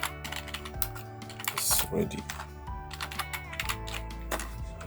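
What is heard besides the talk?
typing text on a computer keyboard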